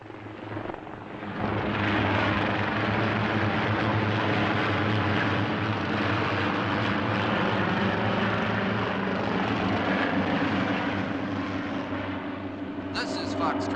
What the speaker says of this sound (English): try to pick up the helicopter that's flying overhead